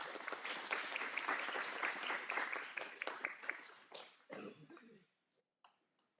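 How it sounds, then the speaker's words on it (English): An audience at a school board meeting claps in a loud sustained round of applause that tapers off and ends, followed by a cough or two in the near silence. "Let's give her a round of applause."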